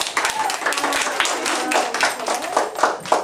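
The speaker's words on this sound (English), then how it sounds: "welcome them with a round of applause" Broadband crackle of many hands clapping at once, a steady round of applause from a crowd lasting a few seconds.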